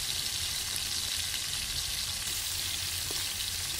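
Scallop and potato omelet frying in hot oil in a small pan, a steady close sizzle and crackle running the whole time with no talk.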